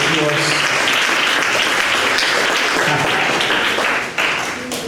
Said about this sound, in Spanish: Puedes dar un aplauso a Jesús si sientes eso